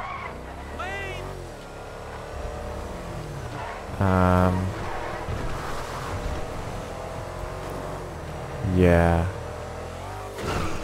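Lampadati Novak SUV in GTA V Online driving at high speed, its engine revving up in two loud surges against a steady mid-level drone, with a person talking over it.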